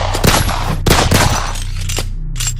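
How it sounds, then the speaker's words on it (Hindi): Gunfire effect in a dramatized Hindi horror-thriller audio comic: a loud, dense burst of several sharp cracks in quick succession over a steady rumble, with no voices. "फायर झोंक मारे।"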